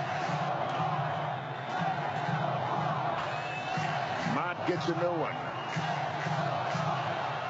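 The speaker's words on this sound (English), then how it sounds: "Listen to this crowd." Crowd noise fills the ballpark at a 2011 World Series baseball game between the St. Louis Cardinals and the Texas Rangers, a steady roaring cheer throughout with a play-by-play voice talking over it.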